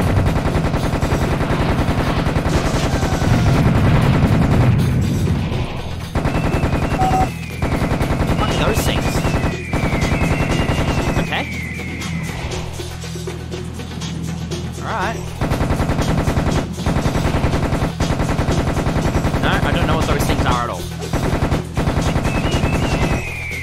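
Gunfire rattles through the video game Serious Sam HD in Egypt, with loud bursts of rapid automatic fire, single shots and sharp game effects across the whole stretch. Someone talks over parts of it.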